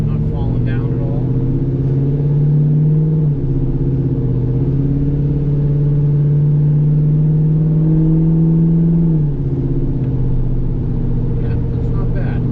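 A 2001 Chevrolet Silverado's engine runs under load while driving, a loud steady mid-range drone whose pitch holds high, then dips and settles as the RPM drops, with voices talking over it throughout.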